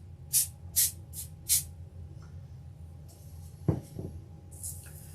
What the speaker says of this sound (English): I will give it another spray.